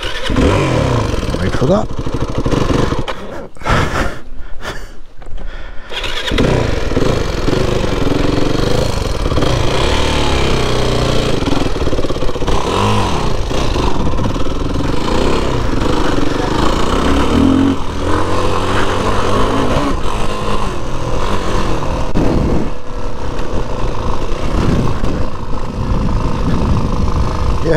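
Motorcycle engine on a rough rural road with sharp slate, droning and revving continuously and loudly up close, with wind buffeting and riders talking over it throughout.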